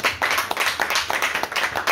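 Audience at a French literary conference on love applauding the publishing director, a steady, dense patter of clapping hands, close and fairly loud throughout.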